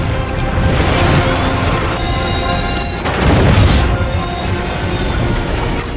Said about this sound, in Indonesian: Miles berhasil membalas serangan yang membuat pesawat Trudy jatuh dan meledak